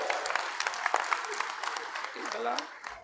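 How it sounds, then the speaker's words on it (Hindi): Crowd applause welcoming Bhupinder Singh Hooda at a rally in Matlauda, steady clapping from many hands that runs under voices and fades toward the end. "जोरदार तालियों से स्वागत किया जाए"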